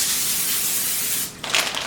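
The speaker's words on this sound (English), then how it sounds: "We're just going to give it a spray." Cooking oil sprays from a can onto aluminum foil in a kitchen during meal prep, one loud continuous hiss lasting over a second, then stopping, followed by a short fainter burst.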